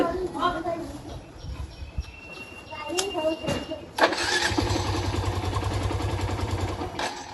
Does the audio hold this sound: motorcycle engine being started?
yes